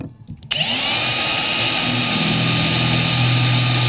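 A power drill boring holes in bare metal for a roof brace plate: a short burst of handling noise, then the motor spins up and holds a loud, steady whine throughout.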